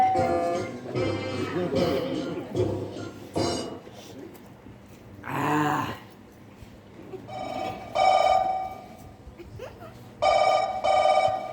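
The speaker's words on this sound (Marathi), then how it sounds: "फोन वाजता मला तो" A phone rings in repeated bursts, alternating with people talking nearby and a brief rush of noise in between.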